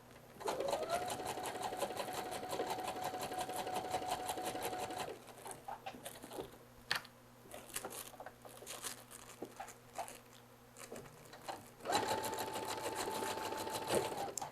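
A sewing machine stitches a seam with a back stitch: a fast, even mechanical chatter runs for several seconds, then quieter handling and clicks, then another steady burst of stitching near the end.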